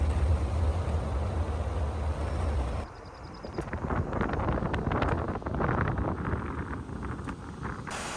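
A vehicle rolls along a forest road near Marion, North Carolina, a steady rumble of tires and engine under heavy wind buffeting, easing slightly partway through then holding constant with scattered gravelly crackle.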